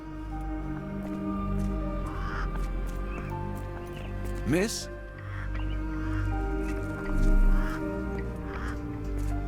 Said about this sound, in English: Minor birds, if I'm not mistaken.